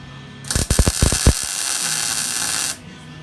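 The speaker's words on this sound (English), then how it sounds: "just filling spot welds along the center apron" Spot welding along a car's center apron during a body restoration: a rapid cluster of crackling, popping weld bursts followed by a steady hiss that cuts off abruptly, close and loud.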